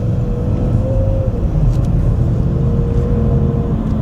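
Cars driving along a road, a close, loud steady rumble of engines and tires rolling past, continuous with no talk.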